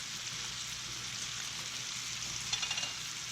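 Mushrooms sweating in a saucepan for smoked stuffing, a soft, steady sizzle with faint crackling pops near the end, quiet and unbroken.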